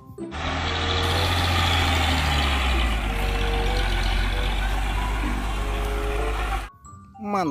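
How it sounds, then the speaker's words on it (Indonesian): A tow truck engine idles steadily with a deep, constant rumble, close and loud, then cuts off abruptly near the end. "Mobil derek."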